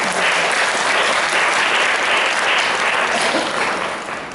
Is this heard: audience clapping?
yes